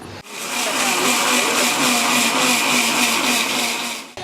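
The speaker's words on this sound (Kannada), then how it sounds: "ರುಬ್ಕೊತಾ ಇದ್ದೀನಿ." A kitchen mixer grinder whirs loudly and steadily as it grinds chilli powder and spices into a masala for paneer masala, a constant motor drone that starts abruptly and cuts off after about four seconds.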